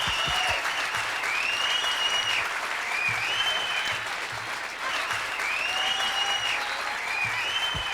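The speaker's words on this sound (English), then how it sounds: "How about another round of applause for all of our dancers this evening?" An evening dance-competition audience claps in sustained, dense applause that fills the room evenly from start to finish, with faint cheering voices mixed in.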